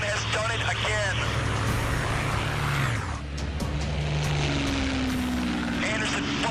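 Propeller engines of a P-51 Mustang and a Messerschmitt Bf 109 roar steadily and loudly in a dive, the engine pitch shifting partway through, with someone talking over the drone.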